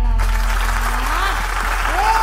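An audience at a Campursari music performance applauds with loud, dense clapping, while a voice speaks over it.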